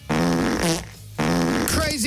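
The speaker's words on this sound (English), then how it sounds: "where are the fart sound effects?" Two long, loud fart sound effects play back to back on a breakfast radio show, each a buzzing, pitched blast lasting most of a second, the second one trailing into warbling voices.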